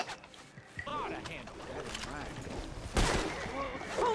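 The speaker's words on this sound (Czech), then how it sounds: "do mě někdo střílí" Bursts of gunfire in a video game crack out close and irregular, with one louder volley near the end, under and between voices talking.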